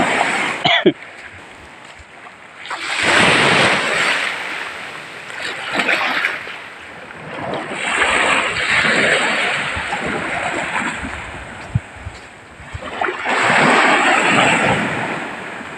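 Ocean waves surging and washing in on the shore repeatedly with a rushing, roaring sound, loud and close, with a steady hiss between the swells.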